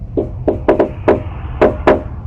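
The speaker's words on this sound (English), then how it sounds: "The intruders keep knocking, shouting for the resident to come out." Armed intruders pound on a front door, seven sharp knocks in an uneven rhythm, some paired closely, loud and near over a low background rumble.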